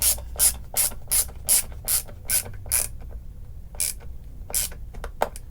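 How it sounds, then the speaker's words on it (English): A clamp is tightened during guitar building, its ratchet giving a quick run of sharp, close clicks, then a pause and a few more spaced clicks. "So I'm just going to clamp down on this."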